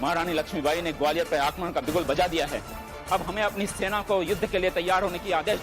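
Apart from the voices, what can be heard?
None of the usual background noises is heard.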